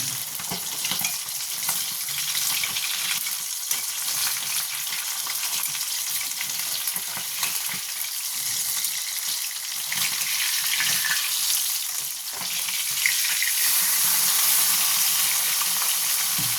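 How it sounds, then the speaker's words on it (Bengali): Bata fish frying in a pan, a continuous bright crackling sizzle of hot oil that holds steady and close, with occasional small pops and a slight swell near the end. "মাছটা ভাজা হোক, তারপরে আপনাদের দেখাচ্ছি।"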